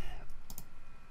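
A single mouse click on an agree button, faint and brief, near the middle of a quiet stretch with steady low background hum.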